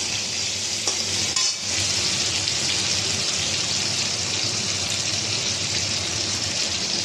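Hog plums stir-fried in a pan, giving a loud, continuous close sizzle with faint scraping of the stirring utensil throughout, no voices.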